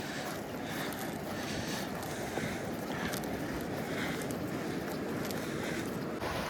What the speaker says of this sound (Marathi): बघा हा कडा वेत त्याचा आणि हा इकडे समुद्र किनारा